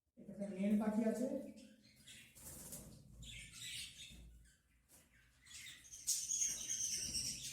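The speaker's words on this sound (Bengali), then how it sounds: "এখানে মেল পাখি আছে।" Male budgerigars chirp and squawk in a cage, with bursts of wing flapping and scattered high chatter coming in uneven clusters, some louder and close, others fainter.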